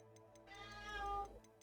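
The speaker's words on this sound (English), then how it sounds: "Can you hear my cat?" A house cat meows once in a rising, drawn-out cry, close and fairly loud over a low steady game soundtrack with faint ticking.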